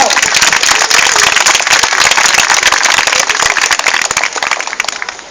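A loud audience bursts into vigorous applause at a Chiang Mai tribute concert, dense crackling claps close and continuous, tapering slightly at the end.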